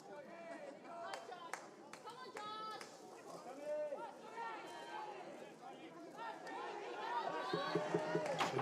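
A baseball crowd at a first grade grand final grows vocal in shouts, cheers and chatter, swelling louder toward the end, while a commentator talks over it throughout.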